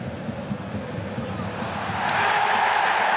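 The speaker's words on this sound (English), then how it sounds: "The crowd's appealing for a penalty." A German cup football crowd at Dortmund against Werder Bremen swells into a loud appeal for a penalty, the roar building over the final second and a half beneath commentary.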